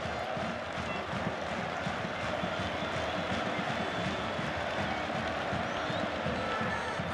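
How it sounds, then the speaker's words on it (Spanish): A large football stadium crowd at the Estadio de Gran Canaria roars steadily with rhythmic chanting in the final minutes of a match, a dense wall of voices continuing without pause throughout. "canta la grada del estadio de Gran Canaria en estos últimos minutos"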